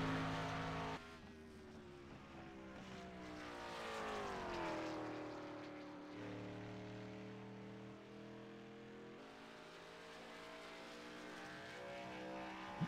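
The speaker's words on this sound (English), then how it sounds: "The 5 of Jason Alexander rolling out onto the racing surface now to start his qualifying times" The #5 race car rolls onto the Gateway MSP track for qualifying, its loud engine droning and revving with rising and falling pitch sweeps as it accelerates and shifts, steady and close throughout.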